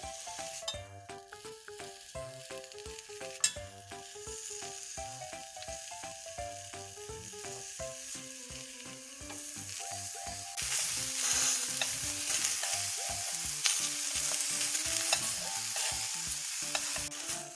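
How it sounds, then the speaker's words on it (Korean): Green onion sears cut side down in a dry pan, a steady sizzle with stirring and light scraping, and a constant tonal hum beneath that gives way to a louder, brighter hiss partway through. "그리고 팬에 기름 안 두르고 이렇게 단면을 밑으로"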